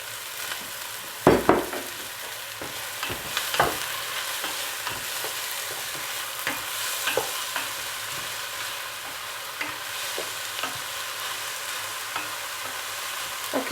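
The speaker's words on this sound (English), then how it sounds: "Okay, these will saute for about 3 minutes" Onions and garlic sautéing in olive oil give a steady close sizzle with frequent scraping stirs and clicks from a utensil against the pan, continuous and without talk.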